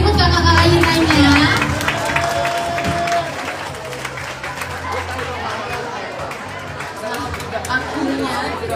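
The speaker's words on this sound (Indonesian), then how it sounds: "Boleh beri tepuk tangan lagi buat kakak-kakak yang lainnya." Audience applause at a school debate competition during Book Week at JHS Global Mandiri Jakarta, loud at first and then thinning into scattered clapping and crowd chatter, with a voice talking over it.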